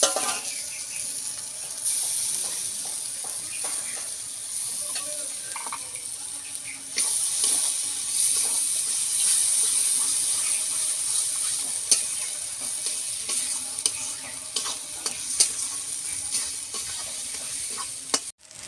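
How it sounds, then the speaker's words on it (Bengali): Ground spice paste (masala) for a steamed chicken curry is stir-fried in a hot pan. A steady, close sizzle runs throughout, with repeated scraping strokes of the spatula and brief clinks against the pan. "মশলাটা আমি ভালো করে কষে নেব।"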